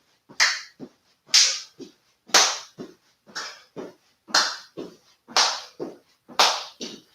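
Hand claps during a clap jacks home workout exercise, about seven sharp claps spaced roughly a second apart, each with a softer secondary tap of the feet, close and crisp with no talking.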